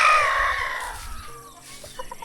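Chickens cluck and a rooster calls loudly up close at the start, then quieter clucks follow at a Philippine home; no speech is heard.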